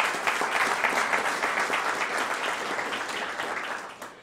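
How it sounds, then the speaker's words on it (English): An audience at a veterans recognition breakfast gives a round of applause, a fairly quiet, full patter of many hands that gradually tapers off over a few seconds. "Give them another round of applause."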